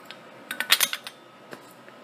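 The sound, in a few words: metal dish drainer part being handled on a show bike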